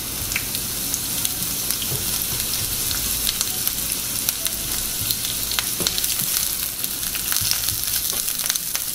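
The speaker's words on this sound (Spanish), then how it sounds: "Ponemos un sartén a calentar y agregamos un poco de aceite. El fuego medio alto. Agregamos la cebolla." Onion fries in hot oil in a frying pan over medium-high heat, giving a close, dense, continuous sizzle scattered with sharp crackles and pops, with no talking.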